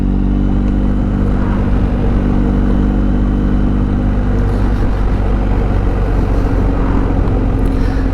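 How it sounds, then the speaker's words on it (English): A convoy of BMW R1250 GS Adventure motorcycles rides together on a group outing, a steady, loud engine drone with wind roar that holds unbroken throughout, no voices. "So that should give you a good shot of the convoy of bikes."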